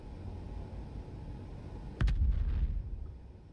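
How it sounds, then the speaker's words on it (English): A ship gun fires once in Space Engineers, a sharp, close blast followed by a deep, booming rumble that fades over the next second above steady low background hum. "I don't have a target to fire this at, but we can shoot it just the same"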